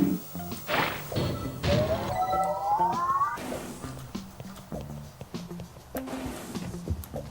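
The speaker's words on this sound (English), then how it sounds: "Unfortunately, the breaking of this glass is a necessary evil." Glass smashing in the puzzle video game Quantum Conundrum, a sharp crash followed by scattered clattering and thuds from debris and thrown furniture, with a tonal game effect sweeping through the middle.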